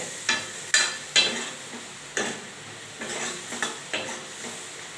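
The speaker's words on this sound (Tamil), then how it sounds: "இந்த மிளகாத்தூள் வாசனை பச்சை வாசனை போகிற அளவுக்கு இது நல்லா வதக்கிக்கலாம்" A spoon scrapes and stirs chili powder and spices sautéing in a pan at a steady, irregular pace, with a soft sizzle running underneath each clink.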